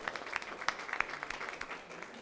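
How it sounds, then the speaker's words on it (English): Scattered applause for school principals at a school district board meeting, fairly faint and thin, with individual claps popping out over a soft room background. "How about a round of applause one more time for our principals?"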